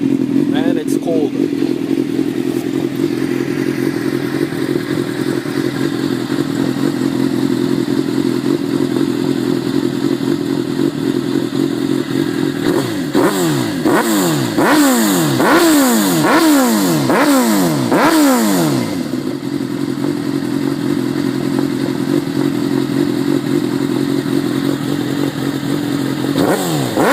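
A 2002 Suzuki GSX-R 750 with a carbon fibre GP exhaust idles steadily and close, then blips through a rapid series of sharp revs before settling back to idle, while someone talks over it.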